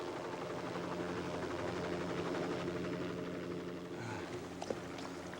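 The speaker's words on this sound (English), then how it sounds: "Helicopters arrive to retrieve the exhausted team members almost 4 hours after the mountain" Helicopters arriving on Mt. St. Helens give a steady, loud rotor thump and engine drone throughout, easing slightly toward the end with faint other sounds.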